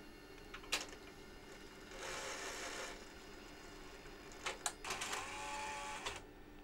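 A Sony DVCAM DSR60P video deck ejects a tape, a faint mechanical whirring with a couple of motor runs and sharp clicks and clunks spread over several seconds in a quiet room.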